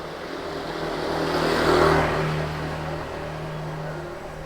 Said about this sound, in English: A lot of traffic, that's for sure.